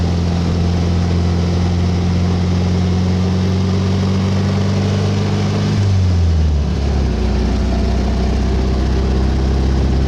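A Volkswagen 1600 engine strains up a steep climb in second gear, droning loudly and steadily at low pitch; partway through its note sags lower as it labors harder, with no talking.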